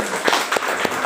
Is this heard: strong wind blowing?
no